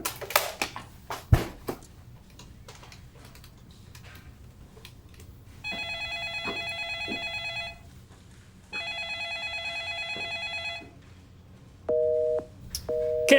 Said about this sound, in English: Can't believe they ain't picking up the phone.